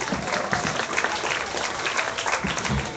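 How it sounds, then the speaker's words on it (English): An audience at the Knox Fair swine show applauds a youth class of crossbred boars, with full, continuous clapping that fills the space at an even level. "Let's go and give these young individuals a very nice round of applause for a good class of hogs."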